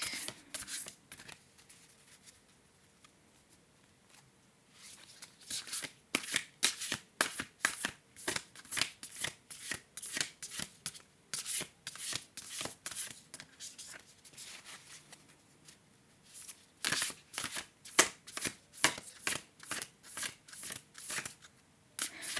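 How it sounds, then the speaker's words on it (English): Oracle cards are shuffled over and over in quick, crisp riffling bursts, close up, with short pauses between rounds and no talking. "I'm shuffling those cards like"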